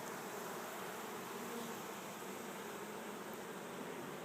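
Honeybees buzz steadily over a hive frame holding honey, pollen and capped brood, a dense, continuous close-up drone with no voices.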